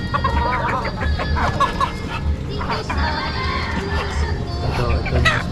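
Native chickens cluck and squawk close by in a rural provincial yard, a busy run of repeated clucks with a faint crow, while people talk in the background.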